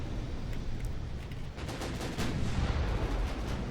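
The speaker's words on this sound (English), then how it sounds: "They're still only firing the stern turrets for whatever reason." Warship stern turrets firing in the naval game Ultimate Admiral Dreadnoughts, a continuous heavy rumble of big-gun blasts and booming artillery, loud and sustained without pauses, with no voices.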